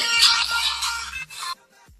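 A phone ringtone plays as a call comes in, a loud, bright electronic melody running for about a second and a half before cutting off.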